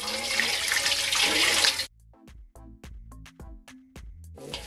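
Water pours steadily into a bowl of seasoning for fried chicken gravy for about two seconds, then stops, followed by a series of light clinks and taps of dishes or utensils.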